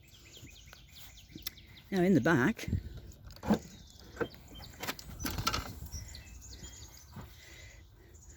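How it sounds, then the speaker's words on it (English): Birds sing outdoors in a quiet spot, faint scattered chirps and calls mixed with close rustling and handling noise while someone speaks now and then. "Birds are singing like crazy."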